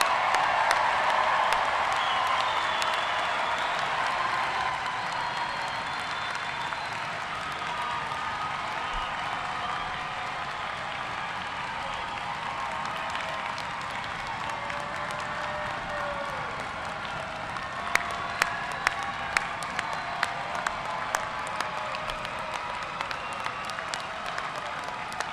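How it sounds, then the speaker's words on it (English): A large commencement crowd at a medical school gives a sustained round of applause and cheering for the graduating class of 2023, steady and dense throughout, with a few sharp claps standing out late. "let's have one big round of applause for the class of 2023"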